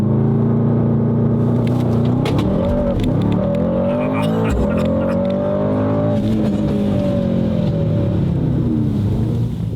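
A Mercedes-AMG car accelerates hard from a race start, its loud engine note rising steadily through the gears, dipping briefly at each shift before climbing again, close and continuous throughout.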